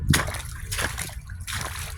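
River water rushing and sloshing where it speeds up over a drop in elevation, a close, steady wash of flowing liquid with splashy surges throughout.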